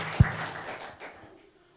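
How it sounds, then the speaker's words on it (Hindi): A short burst of audience applause on the set of the Hindi quiz show KBC, opening with a single loud thump and then quickly fading away to near silence. "बार जोरदार तालियां"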